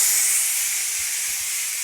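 A Ninja Foodi pressure cooker vents steam after cooking an Italian pork roast with rainbow carrots and potatoes, a loud continuous hiss that holds steady throughout, close by and alone.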